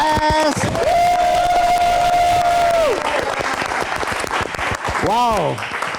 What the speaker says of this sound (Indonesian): Kita tepuk tangan sekali lagi untuk GJLS.